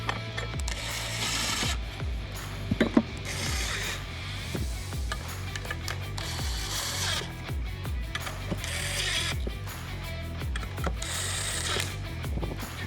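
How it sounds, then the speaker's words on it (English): An impact gun tightens nuts in a star pattern on an FTI torque converter stator, giving repeated loud rattling, ratcheting bursts over a busy mechanical clatter throughout. "We want to use our impact gun to speed up the process"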